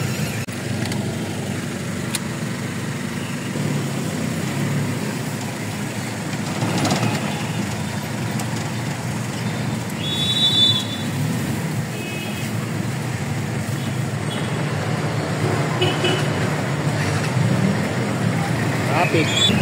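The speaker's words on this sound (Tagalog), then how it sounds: "Traffic." Road traffic on a Filipino street, a steady broad rumble of passing cars and engines with a few brief horn-like tones, while people talk intermittently over it.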